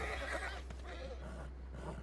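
Horse whinnying from mounted archer units in the strategy game Civilization VI, a fairly quiet neigh over a low hum and background game sounds, with faint clattering.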